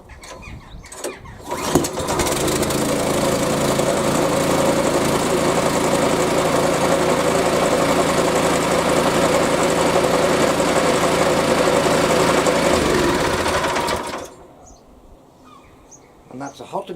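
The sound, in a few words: Hyundai HYSC210 212cc petrol lawn scarifier engine starting and running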